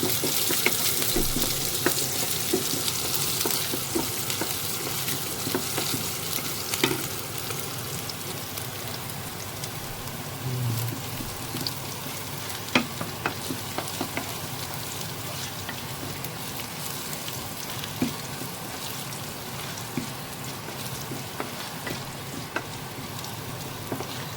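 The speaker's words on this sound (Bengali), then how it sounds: "রসুন আর জিরে ভালোভাবে লাল লাল করে নেব।" Chopped garlic and cumin fry in a pan until browned, giving a steady, dense sizzle with a rain-like hiss that runs evenly throughout, with faint scattered pops and no talking.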